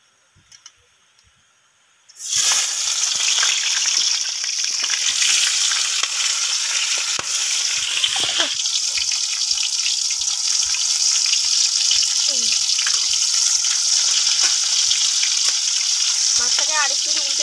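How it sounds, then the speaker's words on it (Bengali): Tiger prawns drop into hot oil in a wok, silence giving way abruptly to a loud, continuous close sizzle with occasional spatula knocks and stirring scrapes. "কড়া বসিয়ে দিয়েছি বাগদা মাছ ভাজার জন্য"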